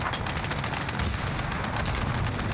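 Dense, continuous automatic gunfire from a Call of Duty: Warzone match, rapid overlapping bursts and shots filling the whole stretch at steady loudness with no speech.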